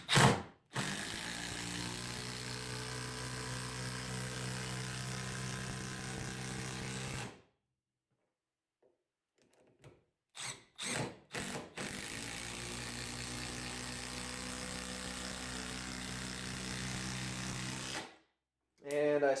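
Power driver in mode 3 sinking a 3-inch screw into a board, a steady loud whirring drive for several seconds, a pause with a few short bursts, then another long sustained run.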